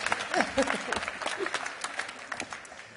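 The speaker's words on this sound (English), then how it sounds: "Do give him a round of applause" Conference audience applauding at the NHS Citizen Expo in Manchester, a steady patter of many hands clapping at moderate volume, thinning slightly toward the end, with faint voices underneath.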